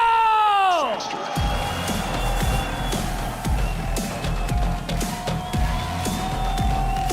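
Applause and cheering from the crowd at the CRL World Finals event, a dense, loud wash of clapping and whoops that stays constant throughout, with a rising electronic tone sweeping down at the start.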